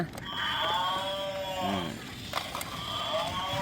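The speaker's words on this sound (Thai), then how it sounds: "ก็จะร้องมอ มอ อย่างนี้นะ" A toy cow bought at a market gives out electronic mooing calls, a few drawn-out, sliding lowing tones heard close and fairly quiet against faint background noise.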